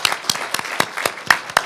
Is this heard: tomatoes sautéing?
no